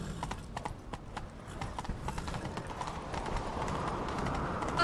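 Horses galloping in The Witcher 3, a fast rhythmic clip-clop of hooves close by with a rising rush of motion and faint voices underneath.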